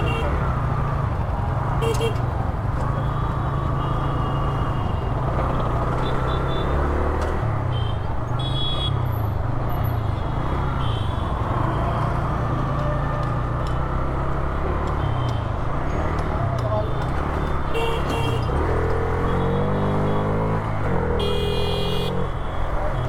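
Road traffic in dense city riding from a scooter, a continuous loud engine and road drone with passing vehicles and occasional horn-like tones, under intermittent talk.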